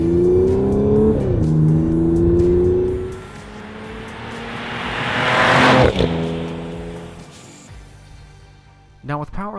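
A 2015 Audi S4 revs and pulls hard through its gears: rising engine note with shift breaks, a louder whooshing surge near the middle, then a sharp drop and renewed revving at the end, loud and close with a voice over parts.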